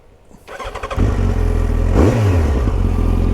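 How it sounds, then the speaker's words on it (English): A 2007 Yamaha Fazer 1000 motorcycle with an Akrapovic exhaust cranks and catches after a brief quiet start, then settles into a loud, steady rumble with a quick rev swelling near the end. "let's start the engine"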